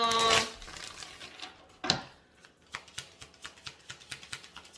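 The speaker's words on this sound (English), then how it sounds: "One more shuffle." Tarot cards are shuffled by hand, a soft brush of riffled cards followed by a series of light, evenly spaced taps as the deck is squared, close and fairly quiet.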